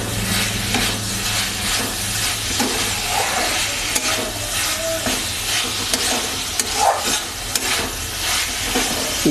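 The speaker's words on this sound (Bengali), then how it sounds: "সুন্দর করে ভেজে নিচ্ছি।" Pan-frying for dhaba-style chicken bharta gives a loud, continuous sizzle close up, broken by repeated scraping stirs throughout.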